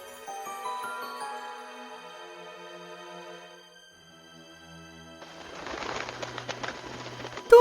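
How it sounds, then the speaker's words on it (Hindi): A parrot caught in forest bushes at night calls out with a series of tonal, bird-like cries, followed by a louder, noisier burst of squawking and rustling toward the end. "देख तो एक तोता झाड़ियों में फंस गया है और वो बहुत चिल्ला रहा है।"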